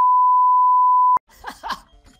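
A long, steady pure-tone beep cuts off abruptly, followed by a short stretch of a voice speaking.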